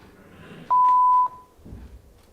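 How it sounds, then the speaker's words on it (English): A single sustained electronic beep from a shoulder test device, clear and steady for about half a second against a quiet room, with no talk over it. "When you hear the beep,"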